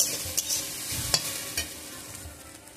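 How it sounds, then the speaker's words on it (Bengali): Hot water poured into a pan of frying fig (dumur) curry with prawns, giving a steady close sizzle and hiss with a few soft stirring clinks, no voices. "এবার আমি গরম জল দিয়ে দেবো"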